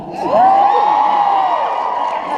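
A convention audience at a Supernatural fan panel in Phoenix lets out a loud, sustained whooping cheer lasting about a second and a half, with a crowd murmur beneath.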